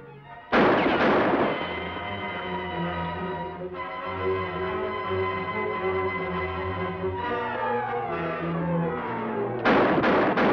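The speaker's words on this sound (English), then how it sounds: "wonder who's firing at us" Gunshots ring out at riders in a Western setting, starting with a sharp close crack followed by echoing reports over dramatic orchestral music, with another burst of shots near the end.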